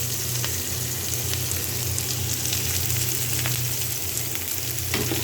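Chopped onion frying in hot oil for a bottle gourd and egg curry, a loud, steady sizzle with low bubbling crackle running continuously and close up.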